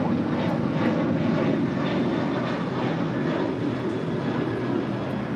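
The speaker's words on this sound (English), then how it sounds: "That is Alaska Airlines 1446 departing to Los Cabos on a 737-800" An Alaska Airlines Boeing 737-800 jet departs from LAX on a flight to Los Cabos, producing a loud, steady broadband engine roar that holds constant for the whole stretch with no talk over it.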